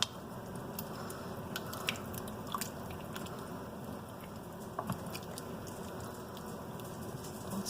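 Thick homemade chili, made with onion, is stirred in a pot, giving faint, soft wet squelching and light scraping with no talk.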